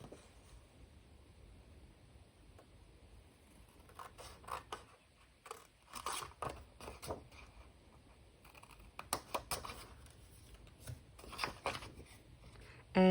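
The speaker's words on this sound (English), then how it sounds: "we are going to remove these 2 panels. So we're going to cut them out." Two paper panels are cut out of a 6x6 two-pocket booklet, with intermittent bursts of crisp scissor snips and paper rustling between quiet pauses, close and fairly soft with no speech.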